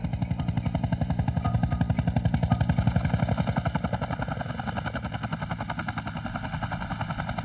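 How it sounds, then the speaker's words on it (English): A rescue helicopter flies over open water with its rotor thumping in a fast, steady beat and its engine whining underneath, loud and close throughout, with no voices. "The chopper now needs to land somewhere safe, so Gavin can be properly assessed."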